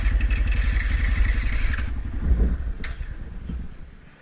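Motorcycle engine cranked with the start button and no throttle, a rapid mechanical churning that shifts into a brief rumbling catch and then settles and fades, close and fairly loud.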